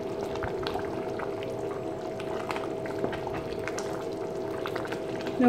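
Traditional Pongal gravy (vensanam) boiling in a pot, a steady close bubbling and simmering hiss with no voices.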